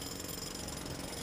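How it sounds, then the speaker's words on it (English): A skid steer fitted with a pneumatic hammer pounds concrete with rebar in it: a loud, continuous, rapid mechanical hammering at close range, with no talk. "A skid steer outfitted with a pneumatic hammer breaks away the concrete."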